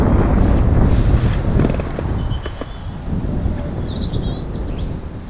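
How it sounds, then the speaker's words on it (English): Strong crosswind buffets the microphone at an outdoor feeder-fishing spot, a loud continuous rumbling roar that eases slightly midway, with faint birdsong chirps high above it. "I've got a bit of a crosswind at the moment"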